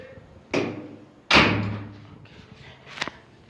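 A door bangs shut indoors, with two sharp, loud slams about a second apart followed by a fainter knock, in a quiet room with no talking.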